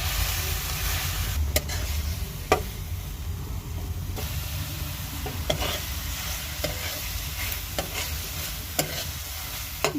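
Leafy greens (shak) cook in a pan with a steady hiss and sizzle, broken by sharp scraping clicks as a spoon stirs them every second or two, close and alone.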